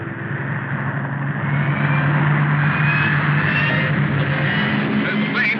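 A steady, droning aircraft engine hums throughout an old 1938 film scene, continuous and fairly loud with no break.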